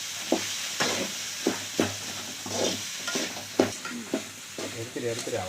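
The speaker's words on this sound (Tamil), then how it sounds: "பார்த்து சரியான பதத்துக்கு பொரிச்சு எடுத்துடலாம்" Jackfruit chips deep-frying in hot oil, a steady close sizzle and bubble broken by regular scraping strokes of a ladle stirring the pan about once a second.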